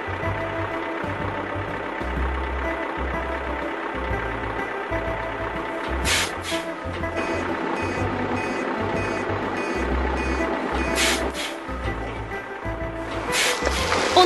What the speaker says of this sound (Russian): Засигналил экскаватор.